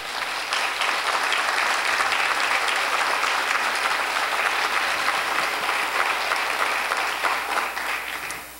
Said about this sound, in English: we'd like to give them all a big round of applause